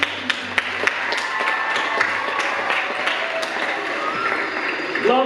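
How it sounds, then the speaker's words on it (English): Theatre audience applause for performers at a stage play, a scattered wash of clapping with a few sharp, close claps standing out, steady for several seconds. "So how about a round of applause for all their hard work?"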